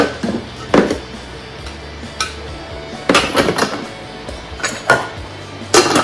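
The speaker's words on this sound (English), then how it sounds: "Just going to scrape all that down." A spatula scrapes a date and butter mixture down the inside of a Thermomix bowl, giving several sharp, close knocks and scrapes spaced irregularly against quiet room background.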